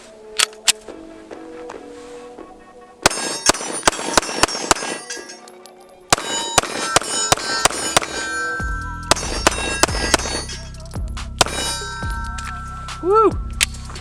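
Shots from a Smith & Wesson M&P-15 rifle and a ported 9mm pistol ringing off steel targets, sharp metallic clangs and pings in quick strings, loud and close, with a brief voice near the end.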